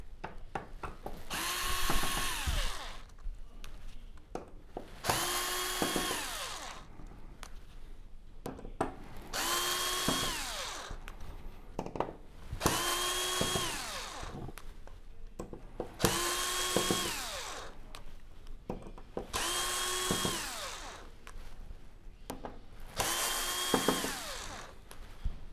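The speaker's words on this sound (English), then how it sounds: "I would try to recommend using a number one screwdriver or a drill bit." A power drill backs fine screws out of a board inside a Sony XBR-75X900F television. It whirs close up in seven short bursts of about two seconds each, separated by quieter pauses with small handling clicks.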